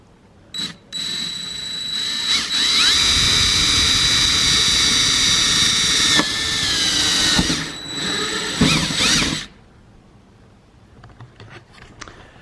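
Power drill boring guide holes into a Dodge Viper Gen 5 ACR body, a loud sustained high-pitched whine for several seconds with a pitch dip and brief stops, ending in quiet clicks.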